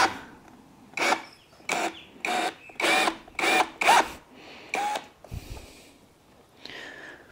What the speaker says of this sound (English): So I've just drilled that hole out